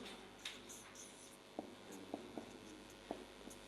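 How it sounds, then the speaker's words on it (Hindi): Pen writing Arabic words on paper during a Quran Arabic lesson, giving faint scratchy strokes with a few sharp taps and scrapes, close and quiet with no talk. "अल्फाज में लिखता हूँ आपके सामने।"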